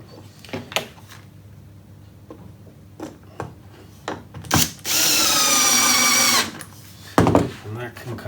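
A power drill drives the last screw into a wooden spice rack in one sustained whir of about a second and a half, set between scattered clicks and knocks of handling.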